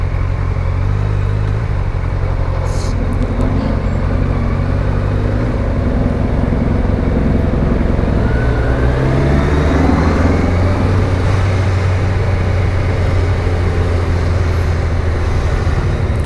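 A Kawasaki Ninja 1000 motorcycle ridden through Brisbane commuter traffic, a loud steady engine drone with deep rumble and heavy wind rush, shifting pitch slightly as the bike accelerates.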